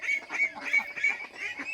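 Ducks on a farm waiting to be let out to a pond give a run of loud, nasal honking calls in steady bursts, close by with no talk.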